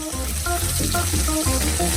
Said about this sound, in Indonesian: Sekarang aku perlu menggoreng daging ini.